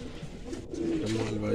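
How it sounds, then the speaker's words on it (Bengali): Pigeons in a breeding loft give low, close coos under a voice for a brief moment. "এই যে দেখুন পায়রা সব ব্রিডিংয়ে দেওয়া আছে"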